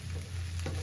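Leafy greens fry in a pan as part of making Kannada bassaru, giving off a steady, soft sizzle for a brief moment with no one speaking.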